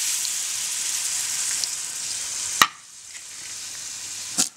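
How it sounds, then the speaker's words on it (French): Semolina heating in olive oil in a pan with water just added: a steady bright sizzle, then a sharp clack and the hiss drops away, another knock near the end, close and moderate. "Une fois que la semoule a commencé à chauffer avec l'huile d'olive, vous y ajoutez la même dose d'eau."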